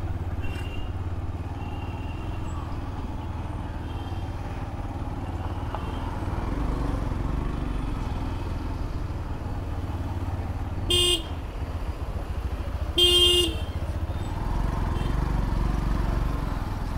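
Motorcycle ride through Mumbai traffic: a steady engine and road rumble runs throughout, with two short, loud car horn blasts near the end.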